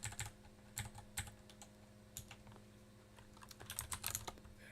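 Someone types on a computer keyboard in short irregular bursts of clicky keystrokes, close but fairly quiet, with a denser flurry of taps toward the end and no voices.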